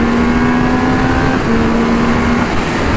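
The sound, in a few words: Triumph Speed Triple 1200 RR motorcycle engine revving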